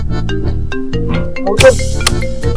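A phone rings with an incoming call indoors, a loud, repeating electronic ringtone melody with a brief clattering noise partway through; nobody speaks.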